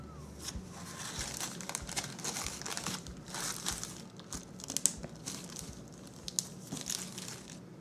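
Close, steady crinkling of a plastic bag being handled, with irregular rustles and a few sharper crackles throughout.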